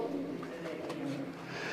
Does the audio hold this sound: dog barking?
no